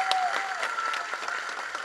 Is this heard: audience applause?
yes